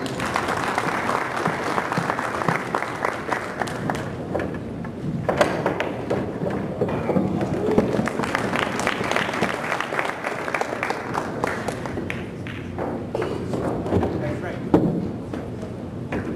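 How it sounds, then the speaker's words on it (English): Sustained audience applause at a billiards expo for two players at the table, a steady clatter of many hands continuing throughout with a few louder bursts, heard alongside faint voices and movement in the hall. "big round of applause, Mr. Barrett and Mr. Sansouci"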